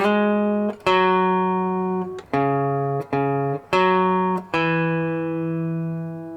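An electric guitar plays a short riff of a few plucked notes with slides between them, each note ringing out clearly with no voice.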